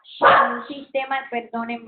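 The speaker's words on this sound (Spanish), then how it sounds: "ese es mi perro." A dog barks and yips in quick bursts, close and fairly loud, while a person keeps talking in Spanish.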